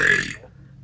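A girl lets out a single short, harsh burp, loud at first and quickly trailing off into near silence within half a second.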